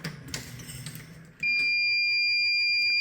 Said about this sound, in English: The alarm is activating,